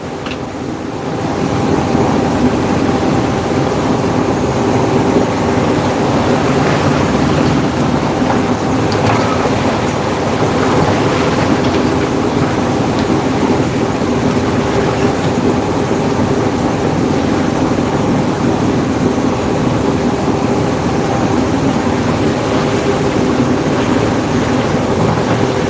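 A sailboat presses through open ocean waves on the way to Lorengau, Papua New Guinea, a dense continuous wash of water and wind rushing loud and close with no voices.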